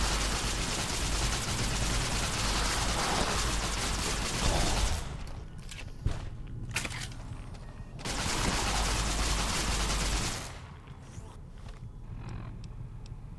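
Gunfire from the Fallout video game arrives as long, dense bursts of rapid shots, each lasting several seconds, separated by a pause of scattered mechanical clicks and creaks, with no voices.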